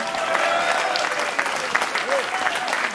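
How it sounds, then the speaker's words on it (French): Crowd at Les Sables d'Olonne applauding a Golden Globe Race sailor, steady outdoor clapping with a busy crowd murmur throughout. "Applaudissements s'il vous plaît pour Abhilash Tomy."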